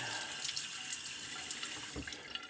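A razor blade covered in shaving soap suds is rinsed under a running tap. The water hisses and splashes steadily at close range for a couple of seconds, with no voices.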